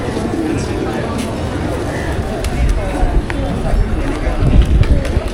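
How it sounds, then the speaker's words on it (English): Pigeons coo amid a dense outdoor crowd murmur in a Durbar Square in Nepal, with bird calls scattered through steady background noise, and wing flutter or footsteps close by. "Pigeons everywhere."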